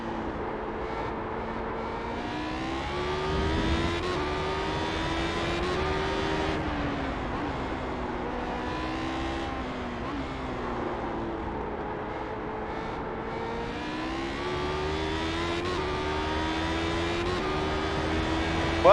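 A Lotus 79 racing car's engine howls steadily at Zandvoort, its pitch rising and falling through gear changes as it speeds along, heard up close and loud throughout.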